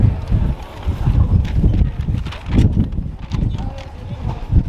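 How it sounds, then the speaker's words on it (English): Strong outdoor wind buffets the microphone in low, uneven gusts that swell and fade throughout, loud and close, with occasional rustling mixed in. "The wind is crazy, man."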